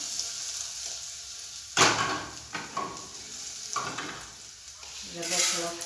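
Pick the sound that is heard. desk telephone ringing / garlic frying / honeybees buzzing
garlic frying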